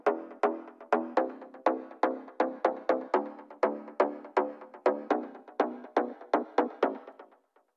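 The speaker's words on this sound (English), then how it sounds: "This typical plucky bass, FM bass, sounds like this" Plucky FM synth bass for an emotional trance track in Cubase: short, percussive plucked notes with quick decays, played in a bouncing, slightly syncopated pattern, clean and alone, fading out at the end.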